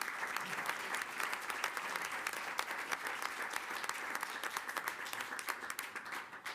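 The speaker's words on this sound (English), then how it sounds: "Let's give them a round of applause." Audience applause at a city council and stadium authority meeting, a dense, continuous clapping from a room of people, steady and somewhat distant, lasting several seconds and tapering slightly at the end.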